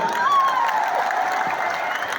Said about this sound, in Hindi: एक बार इनके लिए भी जोरदार ताली हो जाए